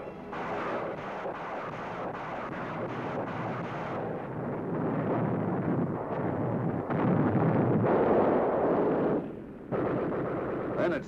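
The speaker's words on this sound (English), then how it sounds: "Our rocket launchers help soften them up." Rocket launchers firing on a town in a WWII Sherman tank assault, heard as a dense, sustained roar of blasts and rumbling detonations that swells louder toward the end, with no voices.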